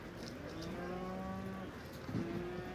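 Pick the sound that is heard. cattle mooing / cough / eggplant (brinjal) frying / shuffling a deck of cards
cattle mooing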